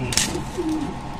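A kalodana pigeon from a Madras loft coos in a short, low, close-up burst, with a steady hum under it.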